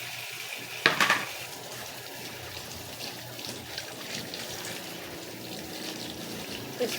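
Water runs while freshly harvested produce is washed, a steady close splashing and trickling wash with an early clatter of a container and small knocks throughout.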